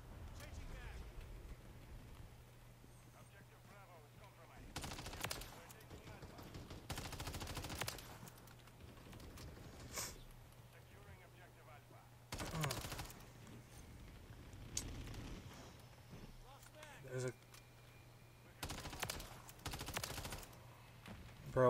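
Gunfire from Call of Duty MW3 multiplayer comes in several short bursts over low game noise, loud and close against the background, with a player talking in between.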